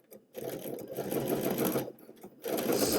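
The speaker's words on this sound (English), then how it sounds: "So let's go to the sewing machine and do that." Close, steady whirring hum of a sewing machine stitching down the center front of a dress along a folded edge, running in two stretches with a short pause between, no talk.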